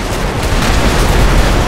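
A tank blowing up in GTA 5 (modded), a dense, loud, sustained explosive roar lasting the whole short moment, with no voices over it.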